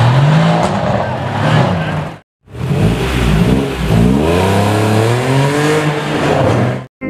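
An NSX sports car accelerates hard and close by, its engine note climbing in repeated rising sweeps through the gears, with a brief gap in the sound partway through.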